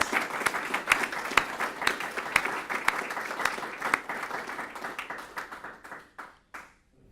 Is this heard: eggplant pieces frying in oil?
no